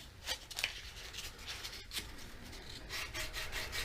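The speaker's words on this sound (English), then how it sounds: "Let me switch to sandpaper." Aspen wood being sanded by hand with sandpaper, a steady close scratchy rubbing that keeps going in uneven back-and-forth strokes with one brief pause.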